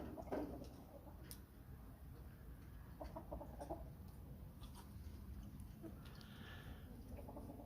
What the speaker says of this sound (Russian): там что-то вон петухи заорали опять